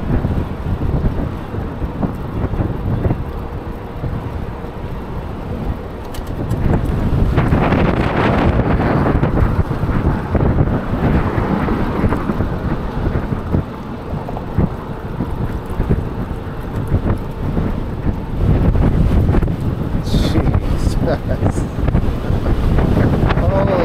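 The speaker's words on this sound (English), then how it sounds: "Going against the wind right now" Strong headwind buffets the microphone while riding a Lectric XP electric bike to work, a loud continuous roar that swells and gusts throughout, with no speech over it.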